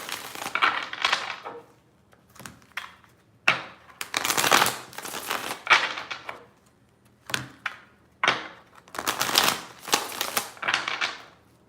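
Tarot cards are shuffled in a quiet room, with repeated rustling, riffling bursts separated by short pauses, close and fairly soft, and no speech over them.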